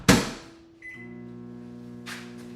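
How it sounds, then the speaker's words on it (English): A microwave oven runs in a kitchen while a protein pancake is being made: the door thumps shut, a beep sounds, and a steady loud hum follows, with another clunk near the end. "I'm going to quickly throw that in the microwave and nuke it for a minute."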